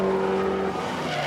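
A Lamborghini Murcielago LP640 engine gives a loud, close, steady howl with a strong sustained tone that drops slightly partway through the brief burst.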